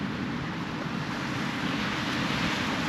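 Surf rolling in at Emerald Beach near Coffs Harbour, a steady wash of breaking waves with wind buffeting the microphone, continuous and fairly loud with no voices.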